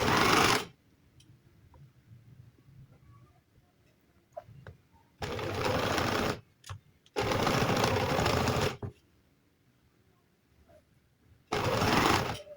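A tailor's sewing machine stitches fabric in several loud, steady bursts of rapid whirring, separated by quiet gaps with faint handling noises.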